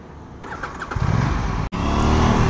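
An Aprilia RS 457 sport motorcycle fires up on a night ride, moving from quiet to a loud, steady, close engine rumble after a brief drop-out.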